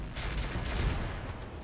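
Turrets fire in the mech combat game RogueTech, a continuous low rumbling barrage of muffled shots at moderate volume.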